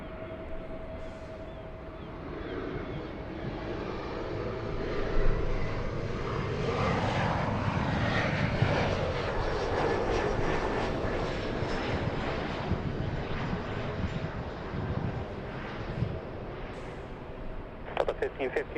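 A jet airliner arriving at a Los Angeles-area airport on a windy evening, with a broad engine roar that builds and swells past at mid-distance, then thins out. Voices talk intermittently over the noise.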